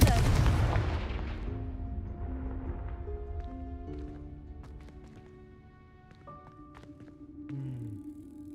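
A Confringo spell in the Hogwarts Legacy video game lands with a loud fiery blast that rumbles and decays over a second or two. Softer game tones, chimes and a later whoosh follow, with no talk.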